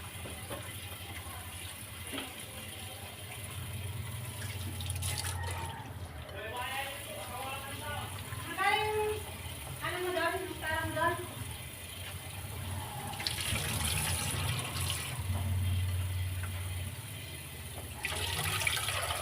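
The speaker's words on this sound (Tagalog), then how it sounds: "Saka natin higasan sa gripo." Food rinsed under a running kitchen tap while being prepared for boiling, a steady broadband wash of water running throughout with a voice talking over it and brief clatter near the start.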